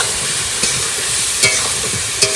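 Spices with salt, turmeric and cumin being stir-fried in a pan, a loud continuous close sizzle with a few spoon scrapes against the pan, no voices.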